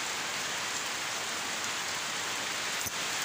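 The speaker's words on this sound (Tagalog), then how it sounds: "nakisilong kami, ang lakas kasi ng ulan" Heavy rain pours down in an even, dense hiss with no pauses.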